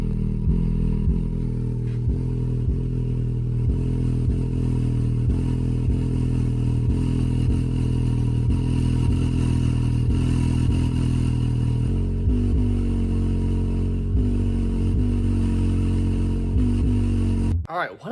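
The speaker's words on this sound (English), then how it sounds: "testing this with DefBonds' biggest 12-inch sub that they make." A 12-inch DefBonds subwoofer pumps loud, deep, rhythmic bass in repeated pulses during a wattmeter test, rattling and buzzing nearby, then cuts off at the end.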